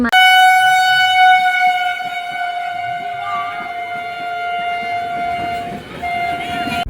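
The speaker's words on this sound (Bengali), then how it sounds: "এদিকে স্টেশনে কিন্তু ট্রেন আসছে" A loud, sustained train horn sounds as a train rumbles into the station, with people talking in the background.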